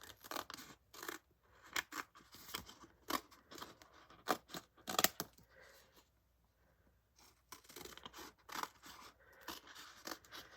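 Scissors snip repeatedly through a UV DTF transfer sheet, a run of sharp, close cuts in irregular bursts with a short pause midway.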